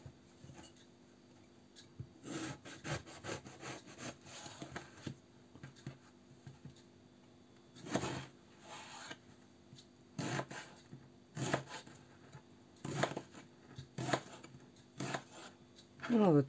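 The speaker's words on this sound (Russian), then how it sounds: "вот такими небольшими кубиками нарезаем" A knife cuts eggplant into small cubes on a cutting board in scattered bursts of quick, sharp taps, fairly quiet, with faint background noise between the cuts.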